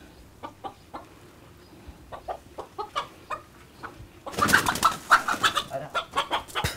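Chickens cluck in a henhouse, first as scattered separate clucks, then as a louder, denser burst of agitated clucking and squawking close by, with no talk.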